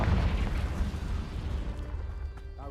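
A Confringo explosive spell blast in Hogwarts Legacy, a loud low rumbling burst that fills the start and rolls on as a long decaying roar with game ambience beneath.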